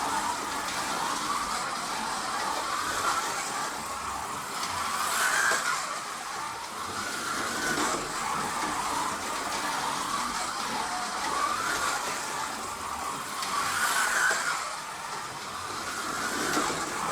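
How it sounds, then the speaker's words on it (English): A noisy Ninco Warsteiner Mercedes C Class DTM slot car from 1996, fitted with inline gearing, runs laps with a continuous high whine that swells and fades as it passes near and away, repeating in a steady cycle. "So it is quite a noisy car."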